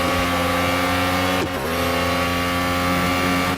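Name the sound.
Ferrari race car engine at Yas Marina, racing video game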